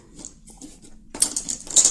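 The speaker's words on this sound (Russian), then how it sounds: "у меня тарелка выскочила" A small plate knocked over by accident during a gypsy solitaire card reading, rattling and clattering sharply against the table in two quick bursts of clinks, close and fairly loud after a quieter stretch.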